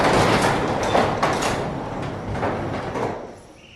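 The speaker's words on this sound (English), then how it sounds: "let me open the garage door and show you how this turns out." A pole barn garage door rolls open with a continuous rumbling, rattling slide, loud and close at first, then fading gradually over several seconds with no talking.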